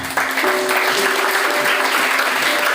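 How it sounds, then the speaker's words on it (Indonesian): Boarding-school students applaud together at a motivational seminar in Banten, a loud continuous burst of clapping starting abruptly and staying steady, with a faint sustained tone beneath. "Tepuk tangan untuk daerah Eropa."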